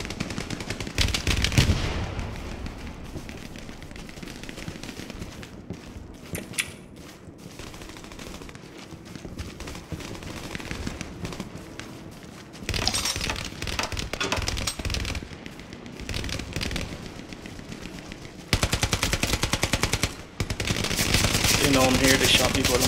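Sustained gunfire in a competitive shooter game match, with rapid bursts and repeated volleys near and far, rising to dense fusillades toward the end, mixed with occasional voices.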